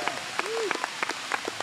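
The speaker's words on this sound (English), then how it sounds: "Let's give him a round of applause." A crowd at the grand reopening of the Corpus Christi Watergarden gives a state representative a round of applause, sparse, scattered clapping with a voice speaking over it.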